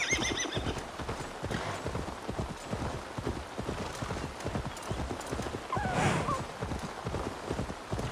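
Horse in the video game Assassin's Creed Valhalla galloping with a steady rapid clip-clop of hooves throughout, with a loud whinny rising partway through.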